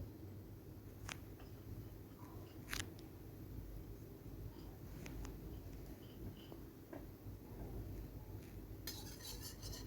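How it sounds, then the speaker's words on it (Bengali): A spatula spreads a spoonful of hot mustard oil around a kadai, giving faint, scattered scrapes and light metallic clinks over a quiet background hiss, ending in a brief cluster of clicks. "খুন্তি দিয়ে একটু তেলটা আমি ছড়িয়ে দিলাম পুরো কড়াইয়ের মধ্যে"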